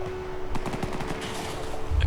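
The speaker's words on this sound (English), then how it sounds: "there's some gunfire over there." Gunfire in a Fallout TV show scene cracks out as a quick rattling burst of several close shots, followed by scattered bangs and a heavy low thump under a steady background hum.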